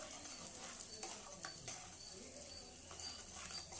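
Peanuts and tempering seeds frying in hot oil for raw mango tamarind rice, a steady close sizzle with soft stirring scrapes and light pops throughout.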